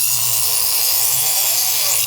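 Kitchen knife blade drawn steadily across a sharpener in one continuous grinding rasp lasting about two seconds, close and fairly loud, with a steady low hum underneath.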